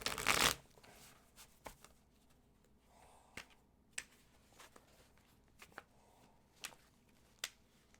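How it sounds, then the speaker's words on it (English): Tarot cards are shuffled in a quiet room, opening with a loud riffle burst, then a scattering of soft, sharp card taps and slaps spaced across several seconds, with no talking. "I'm doing a good shuffle here"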